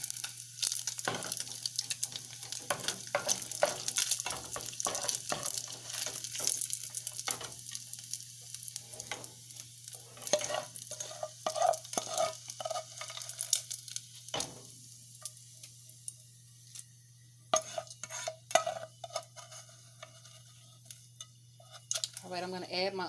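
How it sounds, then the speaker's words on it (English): Steady crackling sizzle of bacon frying in a pan, close up, with occasional clinks and scrapes and a constant low hum underneath. "let me go ahead on and start frying up this bacon"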